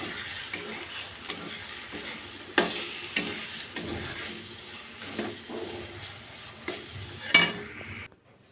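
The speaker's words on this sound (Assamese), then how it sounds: "এতিয়া কণী 2টা বিলাহীৰ লগত মিক্স কৰি ভাজো অলপ টাইম" Two eggs mixed with tomatoes fry in a pan, with a soft continuous sizzle and occasional sharp scrapes and taps of stirring, quiet and close.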